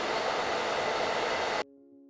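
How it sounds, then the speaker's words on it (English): Hair dryer blowing to dry watercolor paint, a loud steady broadband whoosh that runs continuously and then cuts off abruptly, leaving a faint hum. "So again, I'm just gonna use my blow dryer to speed this up."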